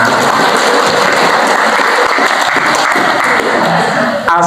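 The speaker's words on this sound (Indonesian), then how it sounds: "Kita kasih aplaus untuk sukses semuanya" An audience at an Islamic motivational talk breaks into loud, sustained applause, a dense, continuous roar of clapping that fills the whole stretch before a voice starts at the very end.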